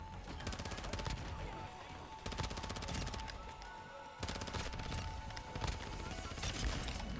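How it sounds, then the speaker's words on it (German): Video game shooter gunfire crackles continuously throughout, a steady stream of quiet, overlapping shots and bursts with no clear pauses. "dann kriegen wir auch noch Schüsse in den Rücken"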